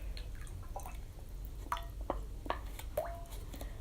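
Liquid gallium mixed with water being poured back into a mold, giving a few soft, close drips and small splashy plops spaced irregularly over a quiet background.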